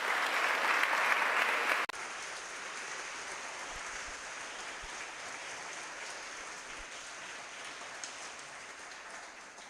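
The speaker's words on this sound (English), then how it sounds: "So please join a round of applause." Applause from a choral concert audience: a loud burst of clapping for about two seconds that cuts off abruptly, followed by a steady, fainter wash of applause-like clatter continuing to the end.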